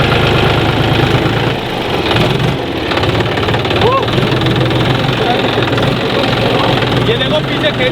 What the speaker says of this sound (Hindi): चला रहा हूँ ट्रैक्टर और खेत जोतते हैं।